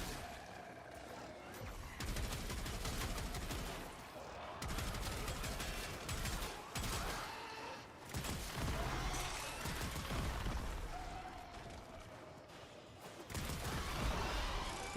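A shotgun-launcher weapon firing in the Warframe video game, with repeated blasts and crashing impacts coming in bursts, moderately loud and mixed with game noise and occasional voice.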